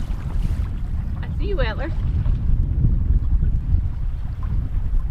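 A boat sails on a remote Nunavut lake, with steady loud wind rumble and water noise close to the microphone throughout, and someone speaks briefly over it.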